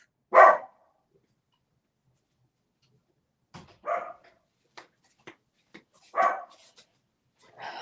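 Dogs bark in a quiet room, a few isolated sharp barks spaced seconds apart, moderately close, with scattered small knocks between them.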